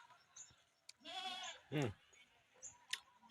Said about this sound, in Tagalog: Kambing oh.